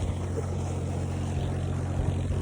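A steady low engine drone hums continuously, a generator-like motor running close by with no voices.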